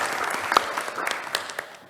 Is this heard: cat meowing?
no